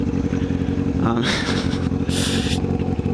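Motorcycle with a straight-pipe exhaust, loud and continuous with engine rumble and revving surges, heard up close while someone talks over it.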